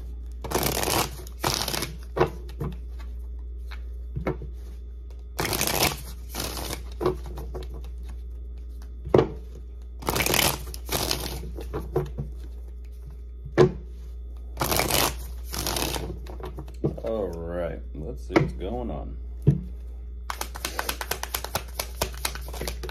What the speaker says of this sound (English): for more tarot readings after this